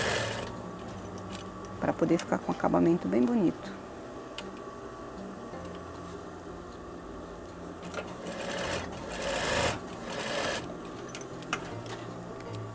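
A sewing machine runs double topstitching on a veterinary coverall in a short rhythmic burst, then goes quieter, while someone talks over it.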